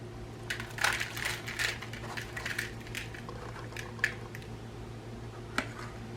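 Soaked rice being mixed by hand into raw ground beef for big meatballs gives soft, wet squishing and crushing sounds, close and fairly quiet, with a couple of sharper clicks.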